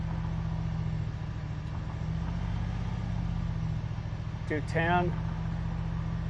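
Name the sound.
V8-swapped Toyota Celica GT engine idling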